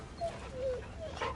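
Torgal, the dog companion in Final Fantasy 16, gives a few short, soft whimpering yips, faint and brief, with no talk over them.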